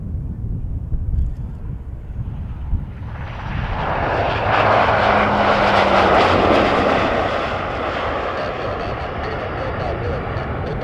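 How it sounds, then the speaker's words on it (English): A Dash 8 turboprop airliner on approach to a runway at Montréal-Trudeau Airport, its engine drone swelling from distant to loud and broad, then holding steady as it passes, with a faint propeller tone under light wind noise. "here comes the Dash 8"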